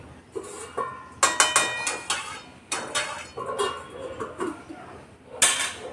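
A metal pot of mutton on a gas stove gets covered with its lid after the flame goes off, several sharp metallic clanks and clatters in uneven bursts, close and fairly loud.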